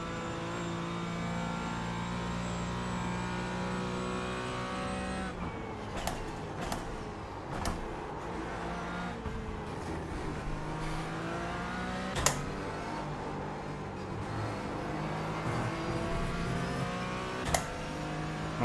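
Mazda MX-5 race car engines in a sim racing community event, a steady harmonic drone that shifts pitch with gear changes and throttle, with several sharp clicks and pops scattered through, continuous and moderately loud.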